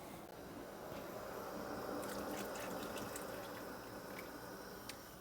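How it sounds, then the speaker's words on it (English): Water pours into a pot of boiling water while eggs or other food simmer in it, a soft, steady splashing trickle, faint and continuous throughout, with no talk. "So I'm just going to add a little bit more water."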